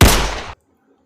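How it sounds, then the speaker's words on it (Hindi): A single loud gunshot blast from a gun fired in a dramatic action scene, sharp onset with a half-second burst of noise that cuts off abruptly into silence. "टॉम ने पुनः फायर कर दिया।"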